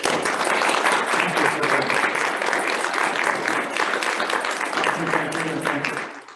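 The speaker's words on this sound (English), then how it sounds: "let's give the doctor another round of applause" Audience applause for a doctor after a health presentation, dense continuous clapping from a roomful of people, loud and even before tapering off at the end.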